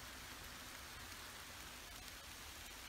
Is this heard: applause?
no